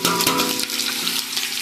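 Chopped onions tipped into a small amount of hot oil for mutton biryani, giving a steady, close, broadband sizzle and crackle that runs throughout without pause, with no talking.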